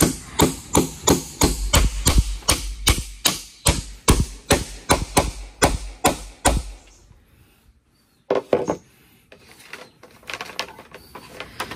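Hammer blows drive nails into wooden floorboards of a riverside hangout, a steady run of about twenty sharp, close strikes, then a pause and a few scattered knocks and taps.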